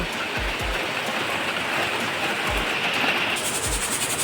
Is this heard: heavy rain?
yes